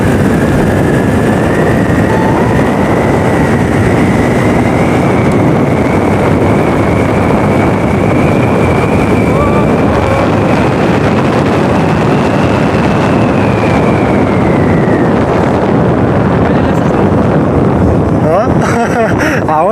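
A TVS Ntorq RTFi 125 BS6 scooter riding on a highway, heavy wind buffeting the microphone in a loud constant roar with a steady engine drone whose pitch rises slightly and then falls away near the end.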